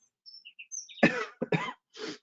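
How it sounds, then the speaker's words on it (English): Two or three sharp, close coughs in quick succession, preceded by faint chirpy squeaks, with silence between bursts. "You'll have to forgive my cough"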